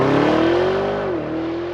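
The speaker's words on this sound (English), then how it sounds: "'19 Lamborghini Urus. With launch control. Hit it." A 2019 Lamborghini Urus with a twin-turbo V8 launches hard under launch control, its loud, close engine roar climbing steadily in pitch before a brief dip at a gear change, with no talk.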